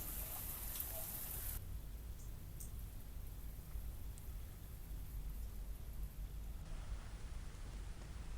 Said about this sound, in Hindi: झालावाड़ जिले के खानपुर में भी जोरदार बारिश होने से मौसम सुहाना हो गया